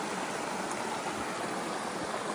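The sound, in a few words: creek flowing through the woods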